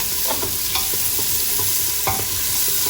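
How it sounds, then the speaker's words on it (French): Onions sizzling gently in melted butter in a pan for grandmother's pumpkin soup, a steady close frying hiss with a few soft stirring scrapes and clicks, no voices. "On va faire un petit peu rissoler les oignons."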